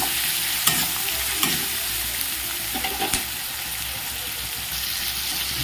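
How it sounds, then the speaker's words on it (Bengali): Tomato and onion with salt sautéing in a pan, with a dense continuous sizzle and a few sharp clicks of a spoon stirring against the metal. "ভালো করে একটু কষিয়ে নিচ্ছি।"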